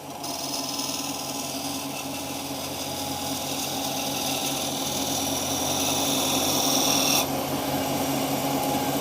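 Sandpaper works against a spinning stabilised amboyna burl shaving brush handle on a wood lathe, a continuous close hiss and whir over the lathe's steady motor hum that holds throughout.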